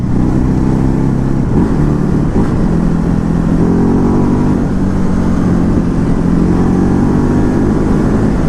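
Ducati Hypermotard 950 motorcycle engine, a 2019 model, running loud and close with a steady rumbling drone and gentle rises in revs throughout, no voices.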